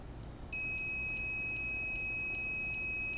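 An electronics continuity tester used on wargaming terrain wiring gives a short run of sharp, high-pitched electronic beeps, about seven evenly spaced pulses over a steady pure tone, following a brief faint chirp; quiet room, no talking.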